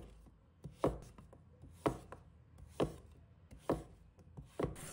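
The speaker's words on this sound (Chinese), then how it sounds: "再把长条横过来，切成边长2厘米左右的方块。" A knife chops through pumpkin strips into small cubes on a cutting board, five crisp evenly spaced thuds, close and clear with no talking.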